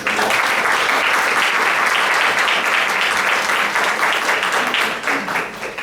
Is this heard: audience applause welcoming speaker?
yes